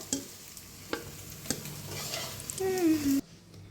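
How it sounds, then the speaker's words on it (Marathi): Eggs fry in a pan for egg curry, with a steady soft sizzle punctuated by a few sharp spatula scrapes and stirring clinks close by, ending abruptly. "आता अंड्याला फिरवून घेऊया बघा मस्त असं दोन्ही साईडने अंडं फिरवून घेतले"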